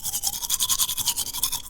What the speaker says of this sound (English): went into the bathroom to brush my teeth again